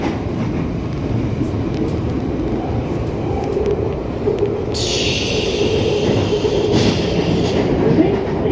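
A London Underground train rumbles along loudly at close range with steady low roar and track noise, and a high hiss rises partway through.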